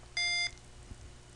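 A single clean electronic beep from a Simon game program, a short steady tone lasting about a third of a second, fairly loud against a quiet background.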